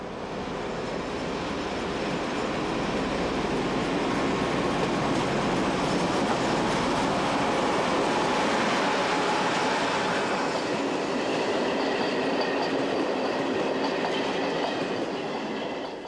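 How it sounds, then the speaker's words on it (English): A passenger train on a through working from Gmünd to Prague pulls away at the Austrian border station, its broad rumble steady and loud throughout with faint wheel and rail noise. "A few minutes later, it sets off again with a through working from Gmund to Prague."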